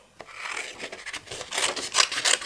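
Scissors cutting around a paper sticker, a close run of crisp snips and rustling paper strokes that grow a little louder toward the end, with no talk.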